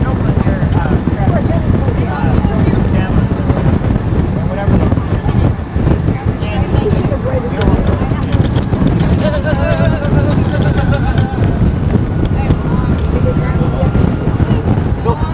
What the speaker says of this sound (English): It's so windy that every now and then the sand hits you in the face